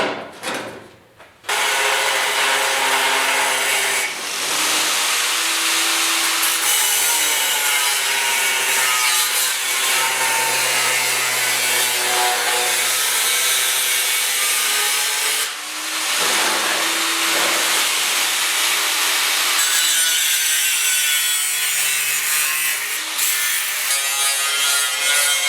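A notch being cut out of the metal side of a 1956 Mercury pickup truck box, with a loud, continuous grinding cut that runs nearly unbroken after a brief start, near and steady.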